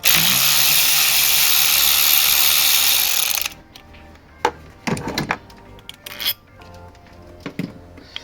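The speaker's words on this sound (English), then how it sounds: "Take them 4 off, the 4 bolts that hold the coil pack down" A 10 mm socket on a ratchet loosens the coil pack bolts on a 2019 Audi A4 TFSI engine: a loud continuous rattling ratchet runs for a few seconds, then scattered metallic clicks and light clunks follow.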